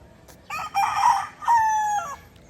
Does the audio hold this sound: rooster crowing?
yes